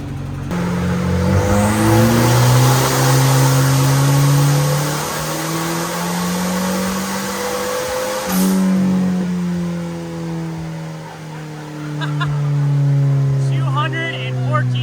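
A Volvo 240 wagon's engine revs on a dyno at a car meet, its loud, close pitch climbing, easing off and climbing again while people talk underneath.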